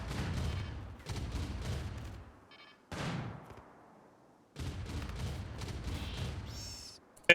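Automated turrets in a video game firing at a rat, three long rattling bursts of rapid gunfire, loud and near, separated by short pauses, with no talk.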